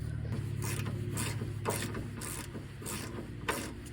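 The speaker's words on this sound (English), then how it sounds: "I'm unscrewing this ground strap here, as opposed to just unplugging it" A ratchet works loose a heavily rusted ground strap on a 1985 GMC C35 crew cab squarebody truck, giving a steady run of rapid, close, regular clicking bursts with short pauses between strokes.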